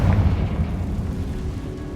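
A Confringo blasting spell bursts in Hogwarts Legacy, a deep booming explosion that hits loud at the start and rolls into a low rumbling tail for about two seconds.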